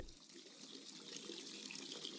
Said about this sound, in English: I'll put some more hot water in.